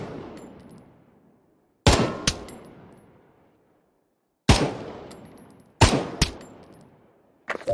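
Gunfire at targets in the Pavlov VR shooting game: sharp, loud single shots and quick doubles separated by pauses, each followed by a decaying ring-out, with no talking.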